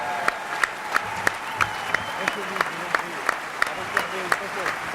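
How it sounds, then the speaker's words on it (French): An audience applauds award winners at a Century 21 France trophy ceremony, steady crowd clapping with sharp accented claps punctuating the wash and a voice speaking over it. "on peut se lever pour les applaudir parce que ils le méritent"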